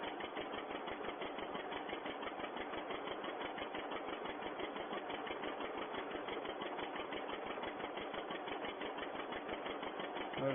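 Old farm tractor engine running steadily during 1951 sugar beet lifting at Greenlands, a continuous dense mechanical chugging with fast even firing pulses, fairly close and unbroken throughout, no voices.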